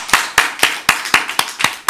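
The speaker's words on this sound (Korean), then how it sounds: "우리 하나님께 영광의 박수 올려드리겠습니다" Slow rhythmic clapping from a church congregation, about eight distinct sharp claps spaced evenly across two seconds, close and crisp, with no talking.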